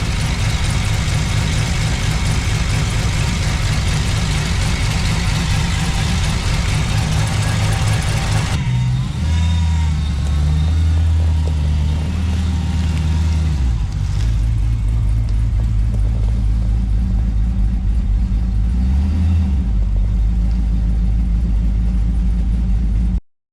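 An LS-swapped Ford Ranger engine idles steadily while warming up, a loud, continuous low rumble with slight shifts in pitch partway through and no talking.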